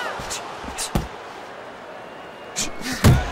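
Sharp punches land in the Fight Night Champion boxing video game, a right hand to the head during a Tommy Hearns vs Julian Jackson bout, giving a few quick thuds and smacks over a low crowd-like background.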